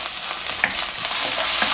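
Onion frying with garlic in olive oil, a bright steady sizzle with crackling pops and a few stirring scrapes, close and alone.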